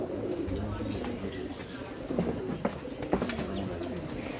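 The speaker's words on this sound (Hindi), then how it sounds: "क्या ज़बरदस्त कबूतर है" Soft cooing from an antique breeder pigeon, low repeated calls under someone speaking nearby, with light rustling in the background.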